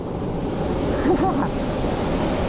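Water pours down the Cachoeira do Abade waterfall near Pirenópolis as a steady, broad roar, loud and continuous, with wind buffeting the microphone and a brief faint vocal sound partway through.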